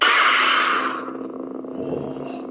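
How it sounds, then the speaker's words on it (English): A lightsaber hilt's sound font effect gives a loud, roaring electronic whoosh that swells and then settles into a buzzing, crackling hum, close and alone. "That sounds like this giant Hulk sword swinging down and just crashing down on the earth"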